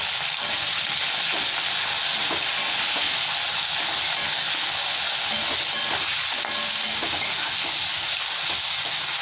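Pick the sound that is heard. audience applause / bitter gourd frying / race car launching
bitter gourd frying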